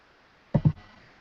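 A person sneezes twice in quick succession, close to the microphone, in an otherwise quiet room, with a faint breath afterward.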